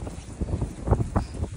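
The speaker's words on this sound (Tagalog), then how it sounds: "Mahangin." Wind gusts across a snowy mountaintop in Mie, making a low buffeting rumble on the microphone that comes in short uneven bursts, with no voices.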